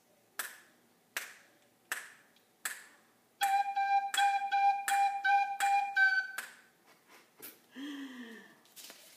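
After four evenly spaced snapped beats, a tin whistle plays a quick run of short, detached eighth notes in steady rhythm. Brief scattered noises follow.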